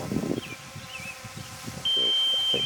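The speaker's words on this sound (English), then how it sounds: "drone is beeping at me here." A thin, high electronic low-battery beep from a drone sounds faintly, then holds as a steady tone over low rustling and wind-like noise outdoors at a lake.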